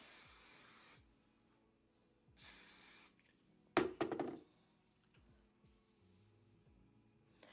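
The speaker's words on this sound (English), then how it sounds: "We spray a little bit of that working spray." Several short hissing bursts of a hairspray can, sprayed on a lace frontal wig, a couple of seconds apart, faint and close, with a soft knock in the middle.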